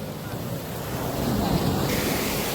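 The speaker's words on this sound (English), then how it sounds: "this is my first beach of the trip" Surf washes onto a beach in Bali, a close, rushing wave sound with heavy wind noise on the microphone, swelling slightly toward the end.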